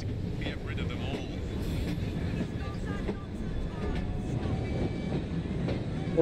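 Train rolling along rails in Assassin's Creed Syndicate, a steady close rumble with rhythmic clickety-clack of wheels on track joints, continuous throughout, with a voice talking over it.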